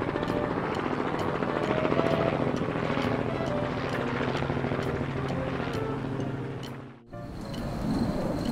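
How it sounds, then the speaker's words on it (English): A Coast Guard helicopter drones steadily and fairly close, with a continuous rotor and engine roar carrying a rhythmic blade chop, briefly dipping in level near the end before resuming. "Coast Guard helicopter."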